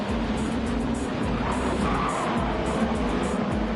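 Gran Turismo 7 race cars running side by side into turn 1 at Sardegna, with loud, dense engine roar and brief tire scrub throughout, no voices.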